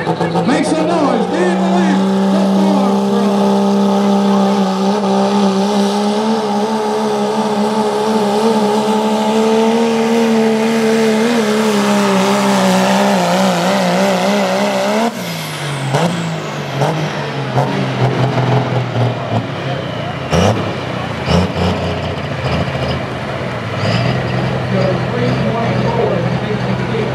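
Diesel 4x4 farm truck at a Texas truck pulling competition, a loud sustained engine roar holding a steady pitch under an announcer's talk, then dropping off into rougher, sputtering revs and clatter near the end.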